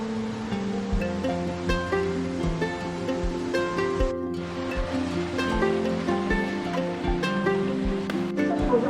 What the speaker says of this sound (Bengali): আমরা চলে আসলাম বান্দরখুম ঝর্ণায় এটি নাপিত্তাছড়া টেলের সবচেয়ে সুন্দর ঝর্ণা